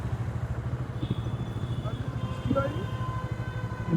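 A motorcycle putters through a jammed expressway in Kolkata's Newtown area, its engine pulsing low and steady among nearby traffic, with short horn tones and some talking.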